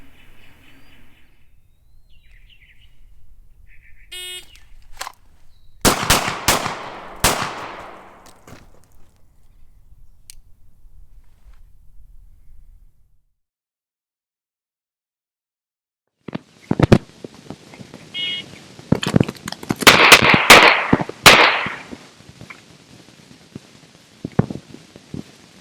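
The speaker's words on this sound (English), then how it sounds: "continue to fire follow-up shots until my attacker goes down" Pistol shots fired during a failure drill on a range, two loud bursts of sharp cracks in quick succession: one string early, then a longer volley of follow-up shots after a pause, with no talking.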